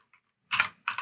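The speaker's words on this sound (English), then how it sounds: "So I'm going to type in tutorial" Computer keyboard keys tapped in a quick few-stroke burst, close and soft, with a faint click before.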